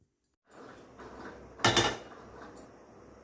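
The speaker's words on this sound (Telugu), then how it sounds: "ఇప్పుడు స్టవ్ ఆన్ చేసుకొని గిన్నె పెట్టుకుందాం" A cooking pot set onto a stove in a home kitchen: after a brief soft rustle, one distinct metallic clunk lands, followed by faint low background noise; quiet and close.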